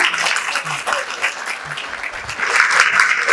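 Students at a college placement celebration party clapping in uneven bursts, swelling louder toward the end, with a few voices sounding beneath the applause.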